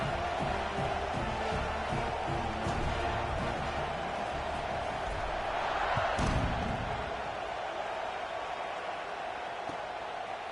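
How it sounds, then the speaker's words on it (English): A football stadium crowd buzzes steadily after a touchdown during an Oklahoma game, a dense continuous roar of many voices that swells briefly near the middle and stays loud throughout. "this crowd is buzzing after that last score"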